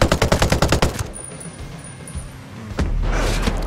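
Rapid automatic gunfire in a large gunfight in the video game Ghost Recon: Breakpoint, a loud rhythmic burst of shots that stops after about a second, followed by quieter rumbling and then a heavier continuous roar.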